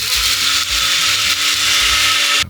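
A NutriBullet Pro 900 blender grinding coffee beans, a loud, steady high-pitched whirring roar with the rattle of beans, running continuously before cutting off at the end.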